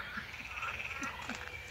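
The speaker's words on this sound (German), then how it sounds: "Hörst du die Frösche quaken?" A chorus of frogs croaking continuously in the distance at Sacrow, Berlin, with a few nearer low croaks popping out at irregular intervals.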